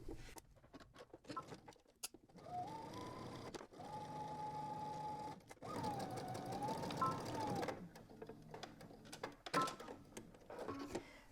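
A home sewing machine stitches a garment's shoulder seam at a 5/8-inch seam allowance, quiet whirring runs with a steady motor hum broken by short pauses and clicks, no talking.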